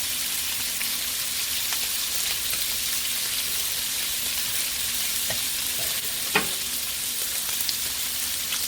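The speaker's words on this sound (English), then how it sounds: "I'm going to be doing some stovetop asparagus. Pan fried." Asparagus pan frying in a skillet on a stovetop, a steady close sizzle throughout with a few faint clinks of stirring and one sharper tap near the end.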